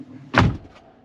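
An insulated van door swings shut with one solid, deadened thump close by, a dull thud instead of a tinny clang, followed by a brief low rumble.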